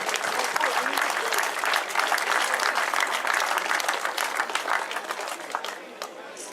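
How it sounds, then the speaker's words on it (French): Spectators at the Trophée Centre-Morbihan junior cycling race in Locminé applaud the Belgian team, a loud, dense burst of clapping that holds steady for several seconds and then thins out toward the end. "Les applaudissements pour la meilleure sélection de ce trophée Centre-Morbihan"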